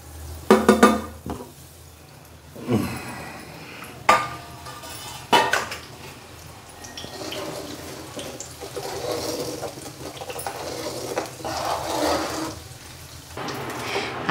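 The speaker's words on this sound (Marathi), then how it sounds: "मी आता ती मोहरीची डाळ टाकणार आहे। गरम झालेलं आहे कढईतलं।" Split mustard seed goes into a hot kadhai while pickling raw mango, heard as several close metallic clanks and scrapes of a spoon against the pan, followed by steady stirring and a light sizzle.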